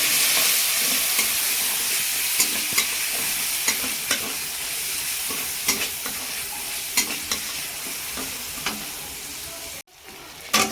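Butter with dried red chilies and finely chopped onion sizzles steadily in a pan, with sharp spatula clicks every second or so, a brief dropout near the end, then the frying resumes.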